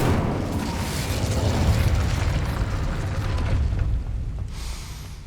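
A sustained fiery blast from the Incendio spell in Hogwarts Legacy, a loud rumbling roar that holds steady for several seconds before fading slightly at the end.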